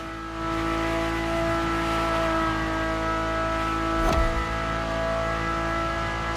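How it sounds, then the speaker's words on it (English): The engine of a car in the racing game The Crew Motorfest, heard from the cabin, hums in a loud, steady, tonal drone that holds level throughout, with one brief thump partway through. "And the car's voice sounds even better from inside."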